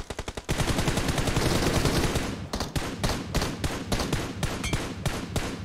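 Gunfire in PUBG Mobile comes as loud, rapid automatic bursts, first a short stuttering volley, then sustained fire that breaks into separate clustered shots.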